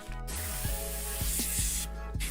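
Soft steady hiss of an airbrush spraying, faint and continuous, with a few small mechanical clicks and a low hum underneath.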